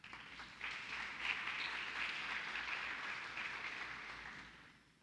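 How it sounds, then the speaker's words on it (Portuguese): A church congregation applauds in a steady, dense wash of clapping that swells after a brief start, holds for several seconds, then fades out toward the end, with no voices standing out. "Dá um aplauso a Ele por isso"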